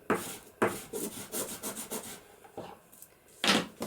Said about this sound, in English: I can turn that over and burnish that down with my bone folder